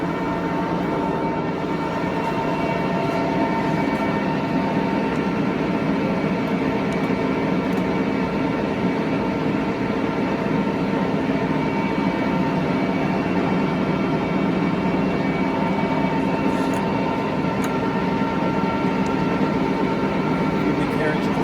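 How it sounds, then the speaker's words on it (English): A 75-inch by 21-foot Tru Turn lathe, built 2009, runs its cross slide outward with a steady, loud mechanical hum and whine that holds unbroken throughout, close and dense with no pauses. "Cross slide out"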